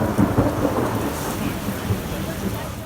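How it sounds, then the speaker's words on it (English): Heavy pouring rain beats down steadily with rolling thunder rumbling underneath, a dense continuous wash of storm noise with no voices. "So I'm in a convent in the pouring down rain."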